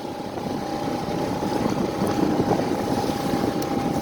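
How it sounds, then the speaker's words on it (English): Strong wind over open water aboard a sailboat motor sailing between Penetang and Beausoleil, a steady roaring rush with engine drone beneath, loud and continuous. "I think you can hear the wind."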